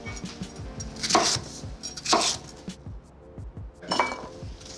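A knife taps through baby corn onto a board in a few separate cuts, with light clinks of kitchenware over a steady background hum.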